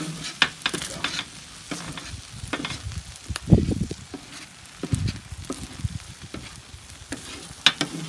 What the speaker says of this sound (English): our rice is frying up nice. Our egg is frying up nice.